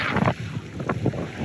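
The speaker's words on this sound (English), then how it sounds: "This gale blowing, but nothing like it was 2 days ago." Gale-force wind blowing over a small sailboat far offshore, a steady, loud roar buffeting the microphone in gusty surges.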